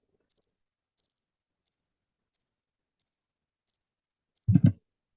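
A reconstructed song of a mid-Jurassic katydid: short, very high-pitched stridulation chirps, each a quick burst of pulses, repeating evenly about seven times over a few seconds in a quiet background, ending with a brief low thump.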